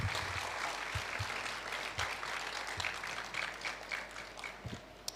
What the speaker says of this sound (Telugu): जोरदार ताली बजा గట్టిగా చప్పట్లు కొడదాం.